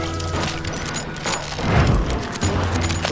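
Gunfire in Call of Juarez Gunslinger, dense bursts of shots and impacts layered over a steady roaring background, with a heavier thump near the middle.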